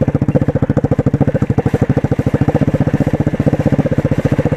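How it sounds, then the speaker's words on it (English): A 125cc street motorcycle creeping down a hill with the clutch feathered, its single-cylinder engine thumping in a loud, close, evenly pulsing putter throughout. "now I just have to feather this clutch and ride down this hill right here"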